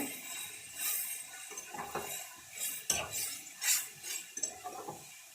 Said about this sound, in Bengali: এবার আমি করে রাখা পোস্ত বাটাটা আমি ঢেলে দেবো ভালো করে মিশিয়ে নেব